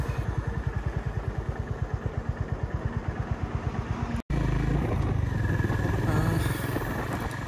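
A Honda CB350 RS motorcycle cruises in fourth gear with a steady, rhythmic low thumping engine pulse, close and loud, briefly cutting out before continuing with more wind and road rumble.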